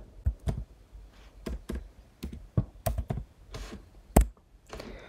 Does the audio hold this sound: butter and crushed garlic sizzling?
no